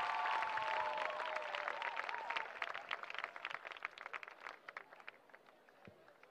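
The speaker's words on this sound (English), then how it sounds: "Please welcome him with a round of applause." A round of applause at a church closing ceremony in Lagos, starting as a full crowd clapping and thinning into scattered, faster individual claps that fade toward the end.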